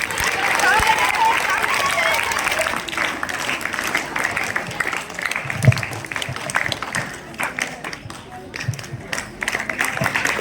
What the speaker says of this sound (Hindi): तालियां बजती रहनी चाहिए बेटा जब तक सम्मान ना हो, लगातार बजाते रहो।